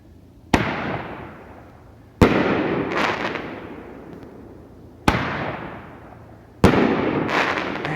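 A Shotgun brand Apocalypse 9-shot 500 gram firework cake fires in sharp, loud booming bursts, four reports a few seconds apart, each followed by a long crackling, hissing tail, with no talk.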